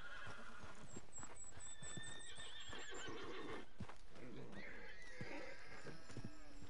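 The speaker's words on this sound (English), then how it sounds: "Need a hand with that horse?" A horse whinnies and hooves clop in Red Dead Redemption 2 ambience, with people talking faintly underneath and scattered thuds.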